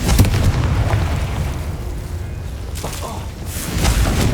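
Confringo blasts in Hogwarts Legacy land as heavy booming explosions, loud and close, with a sustained low roar and fresh bursts near the start and end, against busy game noise.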